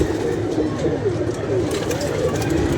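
Pigeons, including kaldum birds, coo in a loft, soft rolling coos repeating close by over a steady background hum.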